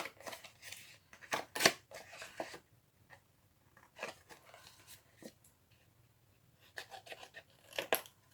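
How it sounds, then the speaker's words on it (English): Paper snips cutting cardstock for a Stampin' Up gift box, a series of crisp, close snipping cuts in short bursts separated by quiet pauses, with no talking. "let me just swap to my paper snips"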